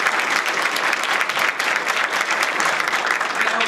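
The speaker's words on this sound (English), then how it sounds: "would you just give that group a round of applause one more time?" Dense, sustained applause from a large audience at a research center inauguration ceremony, a loud, even wash of many hands clapping with no break.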